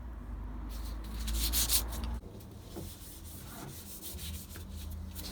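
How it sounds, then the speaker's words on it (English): A wooden finger-joint box is hand-sanded with sandpaper, a close, steady rubbing scratch in back-and-forth strokes, briefly louder then settling into quieter, uneven passes. "So we're just going to sand it by hand as well"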